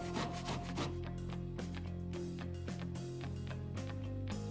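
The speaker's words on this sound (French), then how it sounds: "Sciez le bâti à la scie égoïne en vous servant de la lame de parquet comme guide de coupe" A hand saw cuts through a wooden door frame, using a floorboard as a cutting guide, with close, rhythmic back-and-forth rasping strokes repeating steadily.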